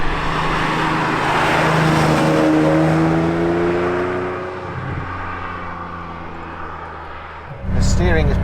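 A Ferrari 456 GT driven along a winding road, its engine note a loud steady hum that rises and falls through the bends, with someone talking over it throughout.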